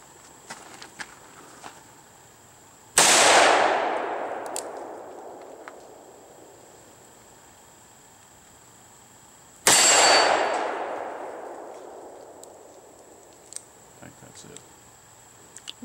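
Two loud gunshots from a Ruger Security Six revolver loaded with .357 Magnum, spaced several seconds apart, each a sharp blast with a long ringing decay, over faint background clatter.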